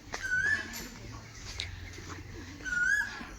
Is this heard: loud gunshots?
no